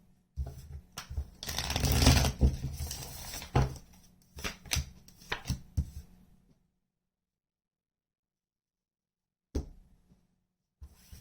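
Tarot cards are shuffled by hand in quick riffling and slapping bursts, dense at first, then sparse taps before a long silence and a couple of final soft clicks.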